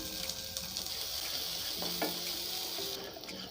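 Chopped onions sizzle loudly in hot oil tempered with mustard seeds and cumin for a spicy pigeon pea curry, a steady close crackle with stirring scrapes and a brief clink near the middle.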